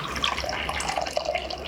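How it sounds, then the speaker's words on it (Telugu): Water is poured into a bowl set on a plate, a short, close, steady splashing trickle heard alone. "ఇప్పుడు ఏం చేయాలా, దీంట్లో నీళ్ళు పోయాల"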